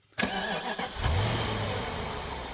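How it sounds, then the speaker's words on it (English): A BMW M6 V10 engine cranks briefly, then catches and settles into a steady, smooth idle, close and alone. "I really want to hear what this car sounds like up close when it starts up"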